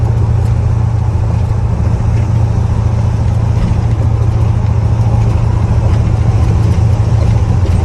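A car engine idles steadily with a low, continuous burble after an R10 carburetor swap, loud and close with no talk over it.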